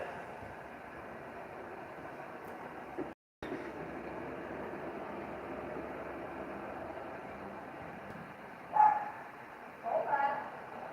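A puppy barks in two short, loud bursts near the end, rising above a steady low background rumble.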